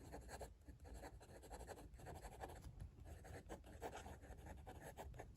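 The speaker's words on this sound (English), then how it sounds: "Okay, it's time for a writing sample now with the Waterman." A Waterman Expert 3 GT fountain pen with a steel fine nib scratches across paper in quiet, continuous strokes, the soft rasp rising and falling with each word written.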